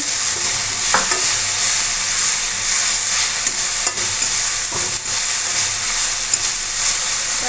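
Pointed gourd and jute leaves with chilies frying in a pan, stirred continuously: a loud, dense sizzle runs throughout, close up, with occasional scraping strokes of the spatula and no voices.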